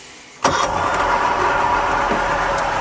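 A Starcraft engine struggling to start after it died: a sudden broadband burst of cranking noise that carries on steadily for over two seconds, close and loud, with no voices.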